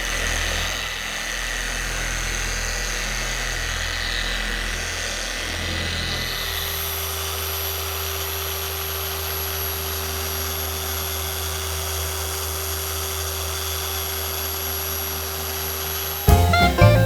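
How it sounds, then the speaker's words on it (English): A machine polisher works on black paint on a Maserati GranTurismo, a loud steady motor whine that shifts pitch partway through, holds constant, then ends with a short clatter. "So we're gonna try and polish this out"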